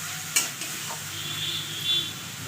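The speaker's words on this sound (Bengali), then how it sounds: "এবারে আমি একটু জল দিয়ে দেবো" Water poured into a sizzling fried spice masala with potatoes gives a quick splash followed by a soft, steady hiss of frying under stirring, quiet and close.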